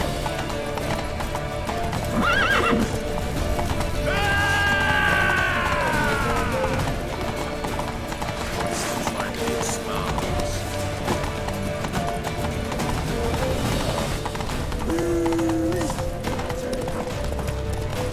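In The Witcher 3, horse hooves clip-clop steadily on stone and a horse whinnies loudly partway through, with crashing and clattering around them in a tense chase.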